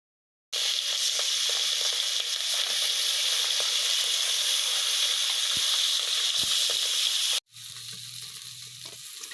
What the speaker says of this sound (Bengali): নুন হলুদ মাখিয়ে মাছগুলোকে ভাজিয়ে নেবো